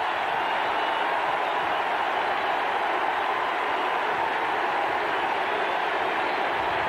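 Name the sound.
stadium crowd noise at a Miami vs Florida State football game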